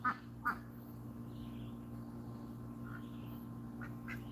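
Ducks on a small farm, including a blue Swedish, give two short quacks near the start, then quieter calls later over a steady low background hum.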